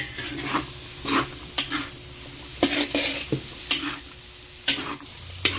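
Baguio beans tossed and stir-fried in a pan for pancit sotanghon, steady sizzle broken by repeated spatula scrapes and clacks at an uneven rhythm, close and moderately quiet, without talk.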